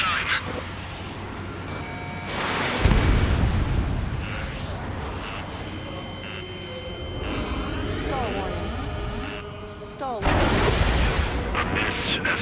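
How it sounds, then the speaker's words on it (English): Railgun shots in the Ace Combat 7 jet combat game, heavy booming blasts with long rumbling tails, one near the start and another at the end, over steady jet engine roar and radio-style voices. "Some kind of energy weapon. No, it's a railgun."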